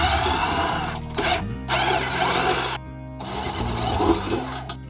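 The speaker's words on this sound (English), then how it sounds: "Then loosen the 4 bolts on your cylinder head." Power tool loosening the cylinder head bolts on a Honda GX160 engine, whirring in several loud bursts of about a second each, separated by short pauses, close up.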